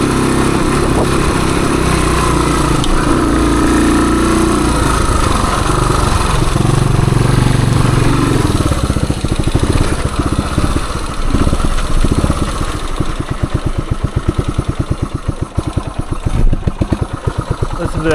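A 1978 Suzuki DR370 motorcycle's engine idles with a loose, steady pitter-patter of single-cylinder firing pulses, fairly close and loud, settling into a slower uneven thump toward the end.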